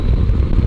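Motorcycle engine rolling on the throttle in fourth gear around 3,000 rpm, a loud continuous close-up drone with no pauses.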